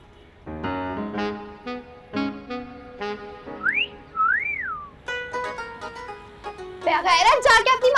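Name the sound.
whistling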